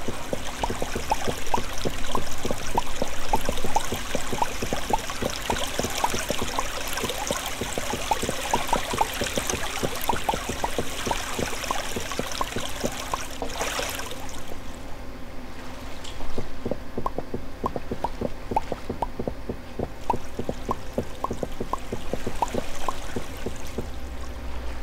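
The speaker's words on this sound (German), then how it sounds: "Hab Wasser gefunden." Steady flowing water in the block-building game Minetest, a continuous close trickle and stream with a faint repeated ticking underneath, unbroken for the whole stretch with no talking.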